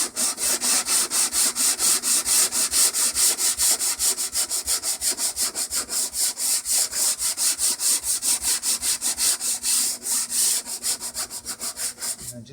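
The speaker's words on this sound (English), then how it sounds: "I got some 80 grit on the DURABLOCK. Let the block do the work for you. Just gently rub." Body filler on a GMC Terrain fender is hand sanded with 80 grit on a Durablock, giving a loud, close rasping scrape in quick regular back-and-forth strokes that continue steadily throughout.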